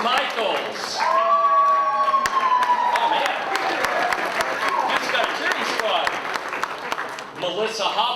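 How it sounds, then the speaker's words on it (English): A crowd at a Hellenic cultural society gathering cheers and applauds steadily, with whoops and a rising whistle over continuous clapping that persists throughout. "He's got a cheering squad."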